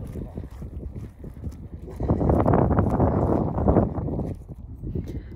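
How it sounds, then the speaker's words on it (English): Strong outdoor wind buffets the microphone in gusts, swelling loudest through the middle of the stretch before easing again, with a continuous low rumble throughout. "It is very windy."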